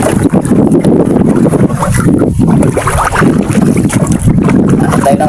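Wind at sea buffets a small fishing boat before dawn, a loud rushing, roaring gust noise with microphone rumble and water wash throughout, dense and unbroken.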